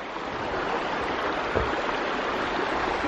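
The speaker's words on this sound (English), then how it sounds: "This is Scale Beck, which runs from Scale Force waterfall." Scale Beck, a Lake District stream running down from Scale Force waterfall, rushes steadily with close, loud, continuous broadband water noise and no voices.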